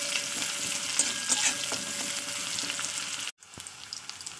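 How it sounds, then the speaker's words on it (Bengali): Chopped onion sizzles steadily in hot oil in a home kitchen, an even, crackling hiss running close and loud before a brief drop-out near the end, with no talking. "পেঁয়াজ কুচিটাকে ভালো করে ভাজতে হবে,"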